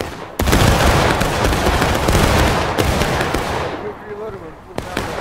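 A massed musket volley from an infantry company in the Civil War game War of Rights, a loud crackling burst of overlapping shots that rolls on for several seconds before thinning out, with a few later single reports and voices underneath.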